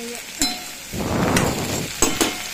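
Okra (bhindi) frying in oil crackles and sizzles, swelling to a louder hiss midway, with sharp clinks of a utensil against the pan near the start and end.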